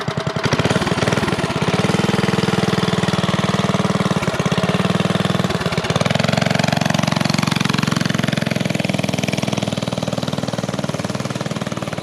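A minibike's small engine idles loud and close with a rough, rapid chugging pulse. It holds steady before the revs shift slightly toward the end.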